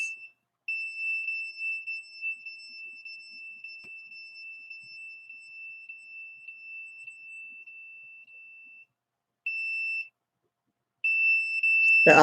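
A detector alarm gives a steady high-pitched electronic beep that holds for several seconds, stops, then sounds in short bursts with gaps. It is loud and alone, with no talk.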